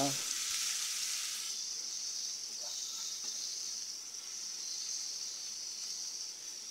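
Garlic sizzles steadily in hot oil in a pan while a home cook stirs it for a ginataang sitaw dish, giving a bright, continuous hiss that is loud at the start and then holds even without any talking.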